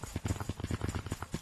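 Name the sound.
footsteps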